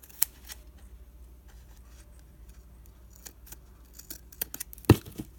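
Scissors snip the corners off a paper bookmark: a few quiet, brief cuts near the end after a faint rustle, close by, with no talking.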